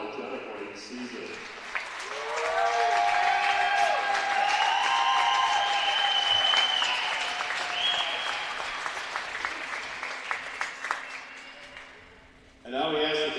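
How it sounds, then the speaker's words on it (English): Arena crowd applauds the St. Norbert College hockey team, finalists at the NCAA Slaats Cup championship game, in a long, swelling round of clapping that fades out, with a voice on the public address before and after. "have a big round of applause for our NCAA Slaats Cup finalists"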